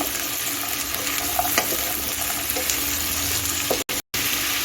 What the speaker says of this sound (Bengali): গাজর দিয়ে দিচ্ছি আলু দিয়ে দিচ্ছি এখন একটু নেড়ে চেড়ে নিচ্ছি